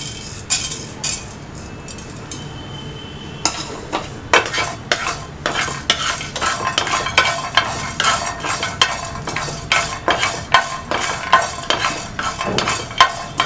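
Spices for puliyodharai powder, including fenugreek, are roasted in a dry pan, a spoon scraping and stirring in quick, irregular strokes with light clinks against the metal, growing busier as it goes on.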